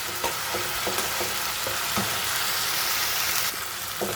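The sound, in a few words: sautéing fish spice paste with onion, garlic and ginger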